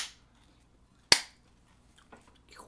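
A single sharp, close hand clap in an otherwise quiet room, followed by faint small rustles.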